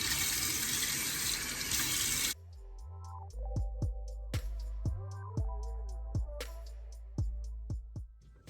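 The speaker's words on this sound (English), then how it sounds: "So I'm probably gonna wash my face twice." Water runs steadily from a bathroom tap at first, then stops, followed by a series of wet splashes and drips as a face is rinsed with cupped hands over the sink, close and clear.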